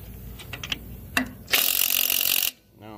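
A ratchet strap on a car trailer carrying a 1952 Chevy is cranked tighter, a few quick clicks followed by a loud one-second rasping ratchet burst, then a brief mechanical creak.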